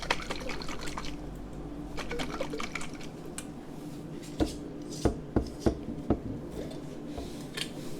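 Chilled canned coconut milk, hardened in the can and shaken, goes into a blender with a soft liquid pour and trickle near the start, followed by several sharp clinks and knocks against the container.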